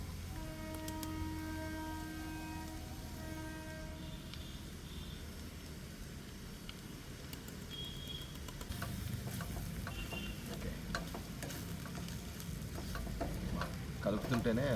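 Curry frying in a pan with ground spice powder added, stirred: a faint, continuous sizzle with scraping stirs, while a voice talks quietly over it in places.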